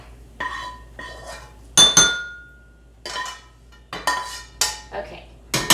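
Metal utensils clink and scrape against a pan and bowl in sharp, irregular bursts as cooked lumpia filling of pork and shrimp is transferred, with quiet gaps between.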